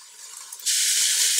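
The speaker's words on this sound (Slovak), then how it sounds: "A všetko spolu pekne opečieme." Chopped vegetables and celery stalk with bay leaf and peppercorns hit a hot pan for pea soup, a sudden loud, sustained sizzle close by that starts partway through after quieter frying.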